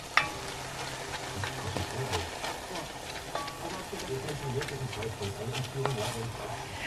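Canned sauerkraut sizzling and crackling in a hot pot with stirring scrapes, a steady fry noise; a voice talks over it.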